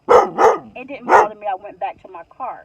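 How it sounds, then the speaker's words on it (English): Three loud, sharp dog barks open the clip, followed by a person talking calmly nearby. "I heard a dog barking."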